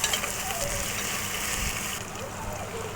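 Onion and ginger-garlic paste frying in caramelized sugar for a Bengali mutton curry, a steady dense sizzle running the whole time at close range, slightly easing near the end.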